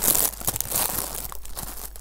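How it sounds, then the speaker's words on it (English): A plastic-wrapped packet of festive vegetarian rolls is torn open and crinkled up close, a quick burst of sharp tearing followed by uneven rustling and crunching of the wrapper. "I'm now going to open the packet."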